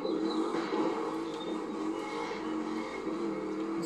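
Traffic cars driving in The Crew 2 racing game, a steady engine drone with a faint tire note, the cars sounding moderately close and continuous throughout.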